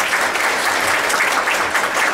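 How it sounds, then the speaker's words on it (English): A large crowd at an induction ceremony bursts into dense, sustained applause, steady and loud from start to finish with no voices standing out. "give yourselves a big round of applause for all the inductees tonight"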